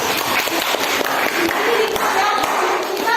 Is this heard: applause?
yes